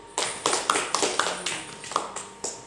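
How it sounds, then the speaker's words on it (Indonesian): Classroom applause for a student group, a short, light burst of several people clapping in loose, uneven rhythm, fairly close and moderately quiet. "Kita kasih aplaus untuk kelompok 1"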